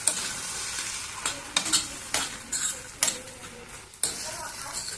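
Onions and tomatoes fry with a steady sizzle in a pan for an egg and drumstick curry, while a spoon stirs them in a series of sharp scraping strokes against the metal, close and fairly loud.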